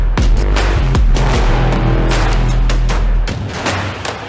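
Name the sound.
machine gun gunfire at a shooting range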